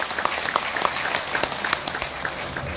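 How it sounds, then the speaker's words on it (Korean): Moderate applause from a party members' gathering welcoming a party leader, a steady patter of many hands with a few distinct nearer claps, slightly distant. "여러분 박수로 환영해 주시기 바랍니다."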